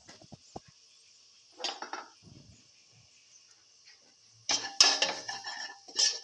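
Salt mixed into tomato and fenugreek leaf rice in a pot, a spoon giving faint scattered clinks and scrapes, then a louder burst of clattering stirring near the end, with no one speaking.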